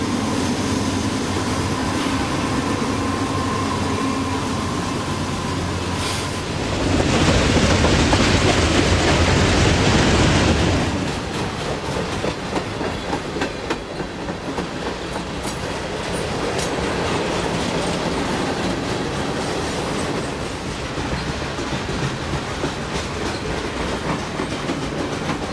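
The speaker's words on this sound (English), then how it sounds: "Train 10A moves bulk commodities and mixed freight from Conway to Reading," Freight train 10A rolls past hauling bulk commodities and mixed freight, a loud, sustained rumble with rhythmic clickety-clack of wheels over rail joints that swells into a roaring burst midway, then continues steadily as cars pass nearby.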